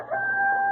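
A rooster crows on a spring morning, a long sustained call held close and clear with no talking over it.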